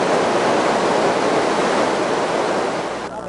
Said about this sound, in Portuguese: Ainda mais com a vista para a Cachoeira do Panelão